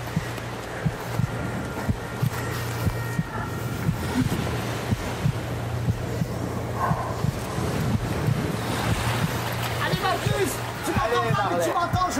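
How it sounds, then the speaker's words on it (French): Wind gusts steadily across an exposed outdoor fort, a continuous rushing buffet on the microphone, with people talking over it. "il y a du vent aujourd'hui sur le fort"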